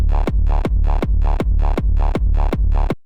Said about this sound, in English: without any processing, our kick sounds like this